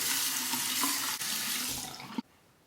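Cold water runs steadily from a bathroom tap, a loud continuous hiss that cuts off abruptly as the faucet is shut near the end.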